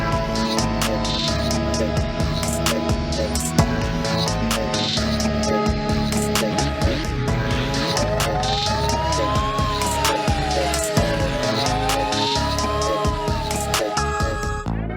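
An ambulance siren from a mod in the Assetto Corsa racing game wails up and down under a dense roar of engine noise, sounding steady and fairly loud throughout.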